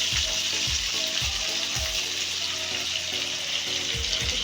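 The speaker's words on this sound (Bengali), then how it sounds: "মশলাটা একটু কষা হয় ভালো।" Masala frying in a pan for a vegetarian dhoka curry, with a steady loud sizzle and periodic low thumps of stirring against the pan.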